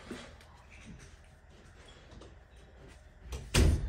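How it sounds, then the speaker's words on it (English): A door shuts indoors with a single sharp thud near the end, preceded by faint shuffling and room noise. "I had to shut that door."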